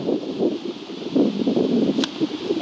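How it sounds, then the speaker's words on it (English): Steady outdoor wind buffeting a microphone during a musket firing demonstration, with continuous low rumbling gusts and a brief sharp click near the end. "It's kind of windy today"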